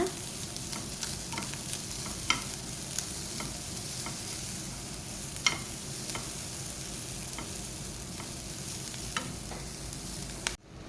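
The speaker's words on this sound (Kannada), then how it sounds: "ಈಗ ಇದನ್ನು ಚೆನ್ನಾಗಿ ಫ್ರೈ ಮಾಡ್ಕೊಳ್ಳೋಣ." Squid pieces frying in a pan for a dry squid sukka, giving a steady sizzle with scattered clicks and scrapes from stirring throughout, close and alone with no talk, ending in a sharp clatter.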